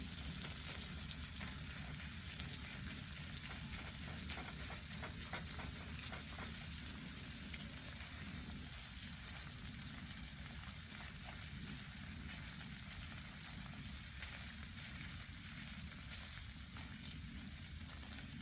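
Smoked salmon slowly cooking in brown butter in a pan on low heat, giving a steady, soft, continuous sizzle with fine crackle throughout and no talking.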